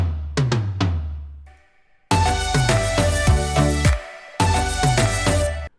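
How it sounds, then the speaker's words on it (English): Deep, booming toms in the drop of a tropical pop house track: a few resonant hits ring out alone, then a brief gap before rolling tom strikes return under a full, dense electronic mix. "And of course, in the end, I added some toms, which sounds like this."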